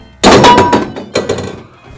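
Aluminum can dropped into a recycling bin: two sharp clattering impacts about a second apart, loud and close, with short metallic rattles trailing off.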